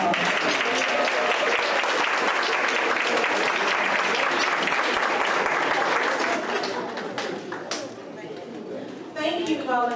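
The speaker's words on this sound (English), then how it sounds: "Will you help me give all of them a round of applause?" An audience at a community meeting applauds its employees of the year: loud, sustained clapping that thins and fades toward the end, with voices and a few cheers rising as it dies down.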